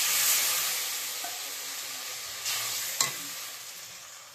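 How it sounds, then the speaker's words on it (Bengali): Curry gravy boiling in a pan just after water has been added: a close, steady broadband hiss and bubbling simmer, with a couple of brief clinks partway through and no voices. "বন্ধুরা, ঝোল ফুটছে।"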